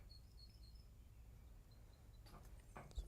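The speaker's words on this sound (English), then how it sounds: "hear those crickets?" Crickets chirping in a studio space, faint high repeated trills over a low background hum, with a few brief clicks and knocks near the end.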